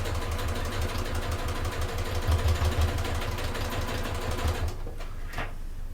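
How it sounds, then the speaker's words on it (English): A sewing machine fitted with a walking foot stitches a bulky bag, a fast steady mechanical whirr with rapid ticking that runs close and clear, then stops near the end. "I'm just going to carry on sewing."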